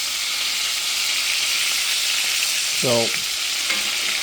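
Pork chops fry in a hot pan with a steady, dense sizzle throughout, close and fairly loud, while a voice briefly speaks over it near the end.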